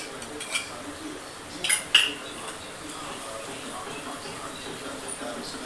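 A spoon stirs masala gravy in a cooking pan for Maharashtrian-style shev tomato bhaji, giving a few faint clinks of metal on metal, two close together in the middle, over a quiet background with a voice nearby.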